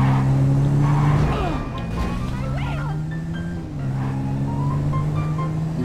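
An off-road bike engine in a video game hums at a steady pitch, dips briefly, then climbs back to an even drone, loud and close, with a voice talking over it.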